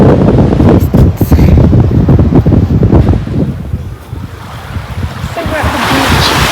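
Ocean waves surge and wash continuously onto a Fuerteventura beach, close and loud, with heavy wind buffeting the microphone throughout.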